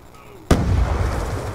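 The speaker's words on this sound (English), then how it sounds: "Someone threw a grenade." A grenade in Black Ops 2 goes off with a sudden loud blast after a quiet moment, followed by a rumbling, crackling tail mixed with gunfire.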